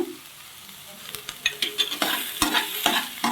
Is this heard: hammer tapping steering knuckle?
no